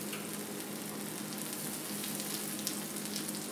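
Food fries in a hot pan with a dense, constant sizzle that holds at a steady level throughout. No voices are heard over it.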